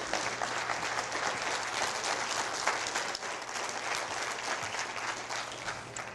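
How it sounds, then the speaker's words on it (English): Sustained applause from a symposium audience at the CDIC 23rd Annual Symposium, a dense, steady wash of many hands clapping at moderate distance that holds evenly for the full stretch with no voices on top. "you can clap for her"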